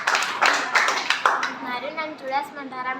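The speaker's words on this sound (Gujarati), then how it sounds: "જોરદાર તાળી સાથે સ્વાગત કરી" Schoolchildren at a Teacher's Day event give a short, loud burst of clapping to welcome a student, fading out after about a second and a half as a voice speaks.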